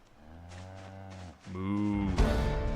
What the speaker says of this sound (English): Oh, several more cows. Look at that.